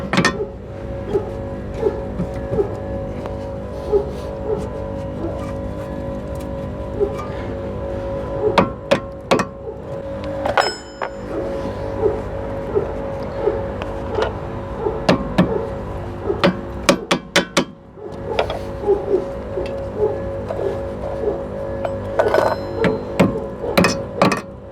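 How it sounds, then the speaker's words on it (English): A hammer taps on the brake caliper support of a Honda Civic, giving scattered sharp metallic knocks in short bursts against a steady background hum, close and moderately loud. "If you have some hammer there, you can a little bit tap this brake support."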